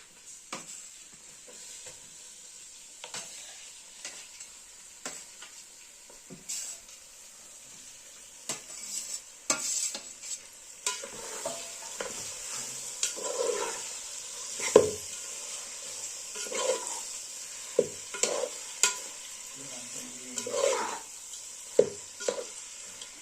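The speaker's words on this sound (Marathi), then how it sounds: "तर आता इथे फोडणी देत आहे चिकन" Village-style country chicken fries in a spiced tempering, a quiet, continuous sizzle punctuated by frequent clinks and scrapes of a spoon stirring against the pot.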